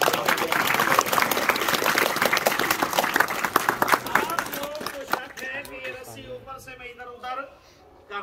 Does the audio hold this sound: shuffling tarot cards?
no